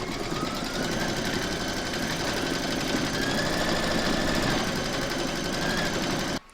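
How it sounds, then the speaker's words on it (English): An embroidery machine stitching an outline on a fabric koala cuddly toy: a steady, fast mechanical whirr and chatter running continuously, then stopping abruptly at the end. "Pop your hoop into your machine and stitch round number 2 to secure it."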